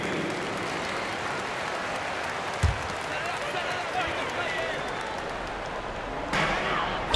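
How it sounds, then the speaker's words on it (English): Steady crowd applause and cheering fill the arena throughout in a basketball video game, with a loudspeaker-style voice over the noise and a brief thump partway through. "Please give a big round of applause for your Bulls Youth Dance Team."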